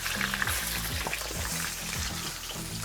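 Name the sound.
potatoes frying in a kazan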